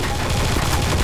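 Sustained machine gun fire in Garry's Mod, a dense unbroken burst of rapid shots that stays loud and close for the whole stretch, with no pause between rounds.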